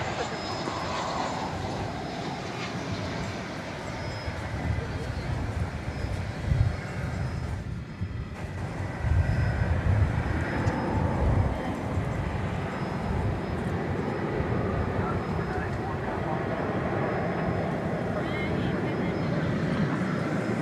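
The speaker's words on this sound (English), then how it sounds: "nice to calm down and get ready for bed with the calm sound of airplanes and Walt." Airplanes at DFW Airport heard from a distance as a low, continuous roar of jet engines, rising and swelling slightly partway through, steady and distant, with a faint tonal hum throughout.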